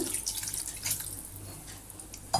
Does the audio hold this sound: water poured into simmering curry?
yes